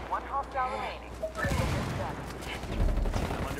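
Gunfire rattles in a Ghost Recon Wildlands firefight, a burst of sharp shots following a tonal in-game sound, then a dense run of cracks and impacts, moderately close.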